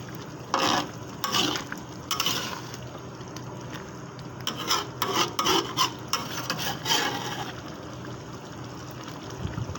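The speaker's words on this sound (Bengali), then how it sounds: "কষায় নিতেছি, কষায় নিয়ে জলের পানি দেবো।" Fish with green plantain and pointed gourd being sautéed and stirred in a pan: close, repeated scraping strokes over a steady sizzle, with bursts of stirring throughout.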